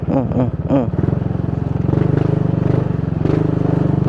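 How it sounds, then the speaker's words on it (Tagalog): A motorcycle rides along a narrow, slippery path, its engine holding a steady, close droning rumble for most of the stretch, with a brief voice near the start. "Try natin ipasok ang motor kung makapasok."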